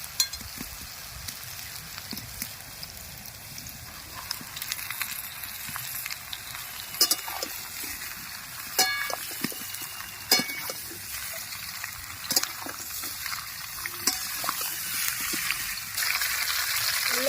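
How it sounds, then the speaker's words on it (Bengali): Onion and ripe bitter gourd fry in a pan with steady close sizzling, punctuated by occasional louder crackles and stirring scrapes; no talking. "পেঁয়াজটা হালকা লাল হয়ে গেছে এই পর্যায়ে আমি উচ্ছে দিয়ে দেবো"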